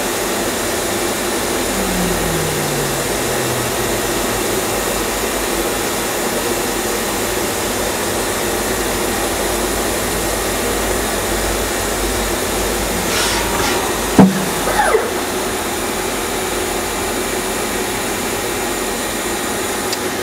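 A Kitamura Mycenter 2X vertical machining center with a 10,000 RPM spindle runs with a steady, loud, broadband whir and hum, and a brief clank stands out partway through.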